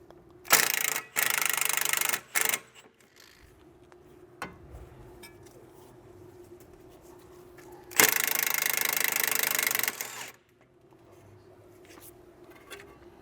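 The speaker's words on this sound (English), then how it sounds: "it's an 18 millimeter to get this nut off. I'm just going to zap it off with the impact." An impact wrench removes an 18 mm nut during a coilover installation on a 1999-2005 Porsche 996 911 Carrera. It fires in three short rattling bursts, then pauses before one longer sustained burst, loud and close.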